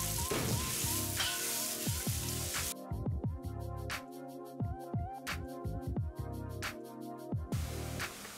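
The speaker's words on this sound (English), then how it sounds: "Adding sunflower oil to the pan. Add onions and fry by stirring for 5 minutes." Onions sizzle and crackle in hot sunflower oil in a pan, a steady dense frying hiss with scattered pops and occasional stirring knocks, close and continuous with no talking.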